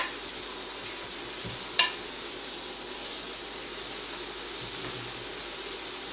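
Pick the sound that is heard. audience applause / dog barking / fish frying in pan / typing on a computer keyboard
fish frying in pan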